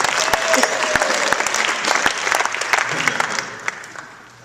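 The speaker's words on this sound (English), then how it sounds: "One more round of applause here" A Las Vegas event crowd applauds, a dense, steady clapping with a few sharp individual claps standing out, gradually fading toward the end.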